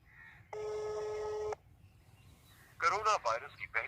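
Phone call to a switched-off mobile: a short tone, then a one-second electronic tone, then an automated voice message.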